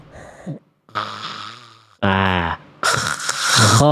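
A voice imitates snoring with several loud, close, guttural rasping bursts separated by short pauses, growing noisier toward the end.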